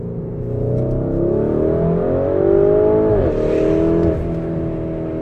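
A Lamborghini Urus engine accelerates hard from inside the cabin, a loud, rising drone that climbs through the revs, dips sharply at a gear change, then climbs again, with no talk.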